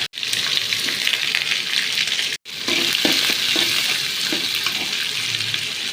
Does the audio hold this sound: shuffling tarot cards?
no